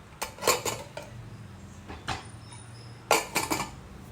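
A lid set onto a cooking pot on the stove, a few close metallic clanks and clinks in short clusters with quiet gaps between.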